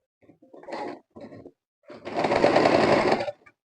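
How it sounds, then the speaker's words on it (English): A sewing machine stitches organdy fabric for a flower in two bursts, a short start-and-stop run followed by a longer steady whir, close and clear with no talking. "So I'll start sewing on this line, bring down my footer and sew"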